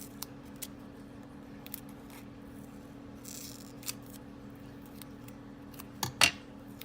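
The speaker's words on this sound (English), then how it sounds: "I'm going to cut this in half this time." Scissors snip through a sheet of card for a snowman shaker card, giving a few short, crisp cuts and then a louder close double snip near the end, with steady low hum underneath.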